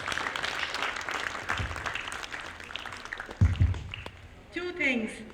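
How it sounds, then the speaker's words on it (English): Applause from a group at an inter-school vocabulary contest rises and carries on under a speaking voice, ending with a brief burst of noise near the close. "So please give all the students, all the participants, a big round of applause."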